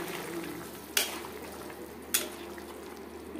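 Egg curry with fried eggs simmering in a pan gives a soft bubbling hiss while a spoon stirs it, with two distinct metallic clanks against the pan about a second apart.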